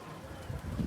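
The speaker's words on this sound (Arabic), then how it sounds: "ادي الحمامتين اهم." Pigeons in a loft coo softly: low, murmuring rolls that swell near the end of the short moment, close by with a faint background hiss.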